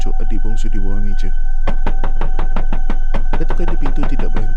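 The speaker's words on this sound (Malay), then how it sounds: "Ketukan di pintu tidak berhenti, malah semakin kuat." Loud, rapid knocking on a door, sharp dry raps in quick bursts that keep going and grow more insistent, with a stretch of eerie tonal sound at the start and steady hum beneath.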